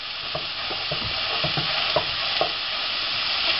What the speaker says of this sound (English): we will stir this for a few minutes until onion is translucent